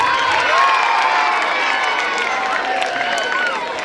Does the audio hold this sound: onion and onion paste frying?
no